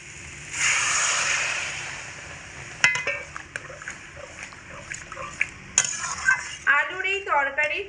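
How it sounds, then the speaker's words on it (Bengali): Water saved from boiling potatoes poured into a sizzling, fried-down potato curry for roti and luchi, with a loud rushing pour at first, then scattered clanks and scrapes of stirring in the pot. "এবার আমি এর মধ্যে আলু সেদ্ধ করে রাখা জল দিয়ে দেব।"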